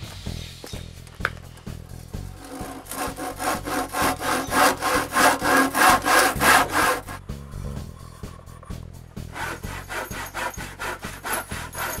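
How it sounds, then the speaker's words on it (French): A hand saw cuts wooden crosspieces to length for a cabin workbench, with rhythmic back-and-forth strokes that build into loud, rapid rasping close by, then slow into lighter, more scattered strokes. "Il ne reste plus qu'à couper à bonne longueur, puis faire des tenons à chaque bout."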